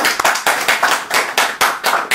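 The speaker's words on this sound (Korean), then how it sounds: "우리 박수 한번 칠까요?" Listeners at a Buddhist weekend Dharma talk clap in a quick, close, fairly even rhythm of sharp hand claps for a couple of seconds, with no talking.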